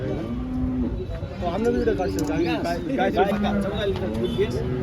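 At the Malegaon cattle market in Nashik district, a cow moos in several drawn-out, wavering calls close by over a busy crowd murmur, with voices talking throughout.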